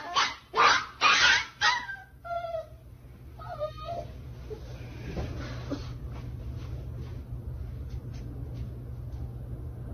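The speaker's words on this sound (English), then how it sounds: "the dog screaming and yelping in pain with what sounds like her striking it" A three-month-old puppy screams and yelps in pain in several sharp, loud bursts that fade into whimpering cries over a steady background hum.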